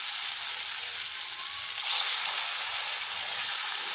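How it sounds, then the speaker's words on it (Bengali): Cauliflower muitha dumplings frying in hot mustard oil, a steady dense sizzle that swells briefly twice, close and continuous with no talk. "এই তেলের মধ্যে দিয়ে ফ্রাই করে নেব।"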